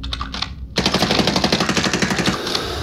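Rapid automatic gunfire in Call of Duty Warzone erupts after a brief quiet start, a loud, dense burst of shots that continues steadily to the end with no talking.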